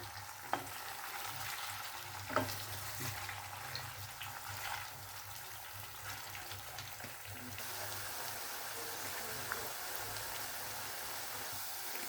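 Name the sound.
potato pieces frying and being stirred in pan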